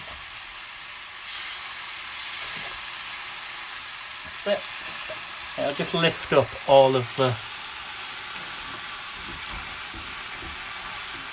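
Chicken fajitas with vegetables sizzle in a hot, slightly scorched pan as a splash of water is added, giving a short burst of loud hissing and spitting in the middle, with someone talking nearby before and during it.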